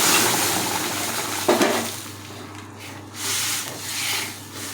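Whole spices crackle and sizzle as they temper in hot oil in a pan, a steady close frying hiss with a brief stirring clatter partway through.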